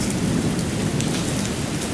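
Heavy rain pouring down during a thunderstorm, a dense, loud, continuous roar of drops close by with a low rumble underneath.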